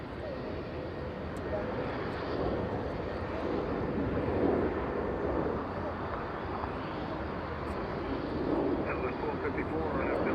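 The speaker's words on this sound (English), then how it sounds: "We have Southwest 1254 flying to Midway in Chicago, a 737-700 for that one." A Southwest Boeing 737-700 jet departs Los Angeles International Airport, its engines producing a continuous broad roaring rumble at moderate distance, steady throughout, with a voice talking over it.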